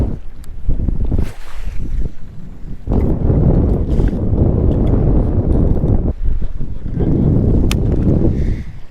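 A fishing boat runs across Lake Harris, its engine and hull roar steady and loud with heavy wind buffeting the microphone, rising after a brief lull and churning on continuously.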